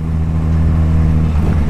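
Yamaha MT-07 motorcycle fitted with an XJ6 exhaust, a steady low idle rumble from the pipe, close and loud with a slight rise in revs near the end, no talking.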